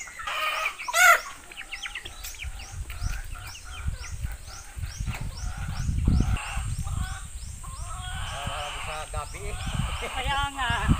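Chickens clucking and squawking close by in a Filipino backyard, a busy overlapping chatter of fowl calls running throughout while people talk over them.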